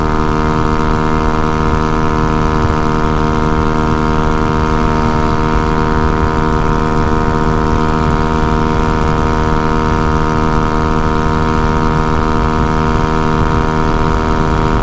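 Honda Ruckus scooter with Met Gears on a short test run, a loud steady engine drone that holds an even pitch throughout, with constant wind buffeting.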